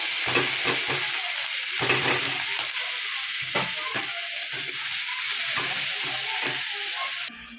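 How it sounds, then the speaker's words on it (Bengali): Bottle gourd peel and onion frying in hot oil in a pan, a steady close sizzle with intermittent scraping and stirring knocks, continuing for several seconds before it cuts off, no talk. "তেল দিয়ে দিয়েছি, এবার এই লাউয়ের খোসা, পেঁয়াজ ভাজা হবে।"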